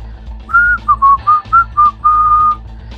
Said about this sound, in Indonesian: Di saat itu justru terdengar suara siulan aneh.